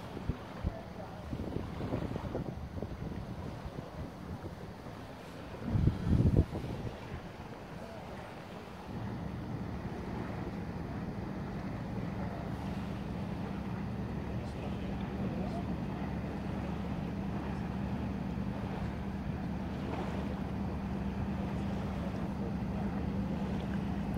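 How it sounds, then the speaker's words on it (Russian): A sail-and-motor boat cruises under motor power on Lake Maggiore, a steady low engine drone with wind buffeting the microphone and water around the hull, and a brief louder rumble early on. "Плывем потихоньку, без паруса, на моторе, потому что это и с парусом, и с мотором лодочка."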